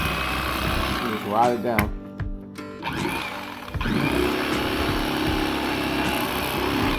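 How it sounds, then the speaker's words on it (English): An electric knife fillets a bass, its steady buzzing whir cutting in and out and then running continuously and close, with someone talking briefly over the start. "it's so easy with a electric knife"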